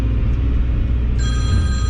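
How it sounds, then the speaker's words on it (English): A phone rings with a bright electronic tone partway through, over the loud low engine rumble of a Hyundai HX145 LCR excavator. "my phone won't quit ringing"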